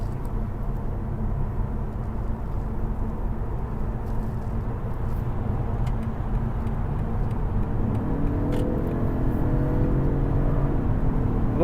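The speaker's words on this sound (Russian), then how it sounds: "вы можете ехать как тихо, так и на бензиновом моторе с приятным звуком" A BMW 530e xDrive plug-in hybrid accelerating on its petrol engine, heard from inside the cabin as a low, steady engine drone with road rumble that rises in pitch as it pulls harder near the end.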